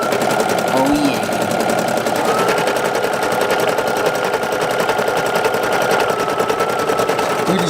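A single-needle embroidery machine stitches a patchwork design, keeping up a fast, loud, continuous mechanical chatter of rapid needle strokes at an even rhythm for the whole span, close to the listener.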